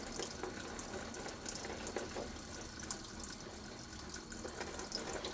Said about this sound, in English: And we'll just start adding water.